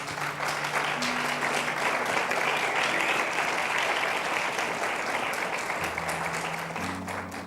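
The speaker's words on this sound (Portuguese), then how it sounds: "o mínimo que a gente pode fazer é aplaudir essas mulheres" A church congregation applauding women who serve, a loud, sustained and even roar of many clapping hands, close and continuous for the whole stretch.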